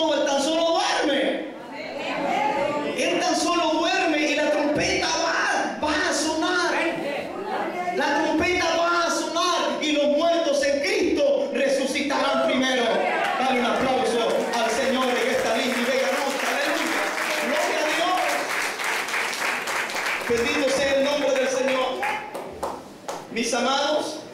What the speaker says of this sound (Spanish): ¿Por qué aplauden? ¿Por qué cantan tan fuerte?